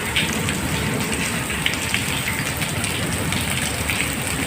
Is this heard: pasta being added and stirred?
no